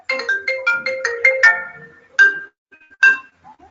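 A phone ringtone plays a bright electronic melody of quick repeated tones, then two separate chimes, loud and close with nothing else heard.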